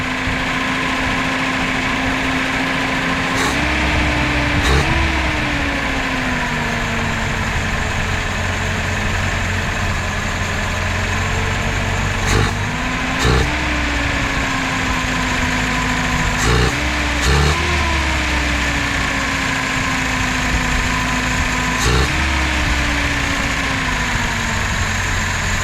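A 1977 Datsun 620 pickup's engine idles steadily just after starting, loud and close, with the idle speed briefly rising and settling several times as the throttle is blipped; no one speaks.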